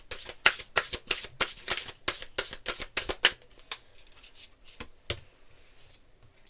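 A deck of oracle cards gets a last quick hand shuffle, a fast train of close riffling bursts that thins out into a few scattered soft card taps and rustles.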